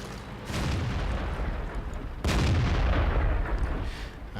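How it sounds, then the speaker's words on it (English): Tank cannon fire in the World of Tanks video game from a T26E4 SuperPershing medium tank. Two loud, heavy booming blasts with rumbling tails arrive about two seconds apart, with no talking. "I rushed that shot and missed it."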